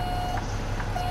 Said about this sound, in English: I know the beeper is getting kind of annoying